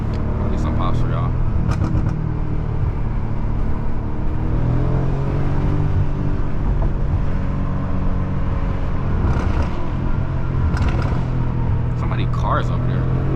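BMW F90 M5 with a tune cruising on a highway, a steady loud engine and road drone inside the cabin with scattered pops and burbles from the exhaust, under continuous talk from the occupants.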